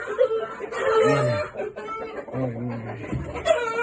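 Roosters and hens on a farm cluck and call repeatedly at close range, with crowing-like phrases rising over a busy background of other fowl.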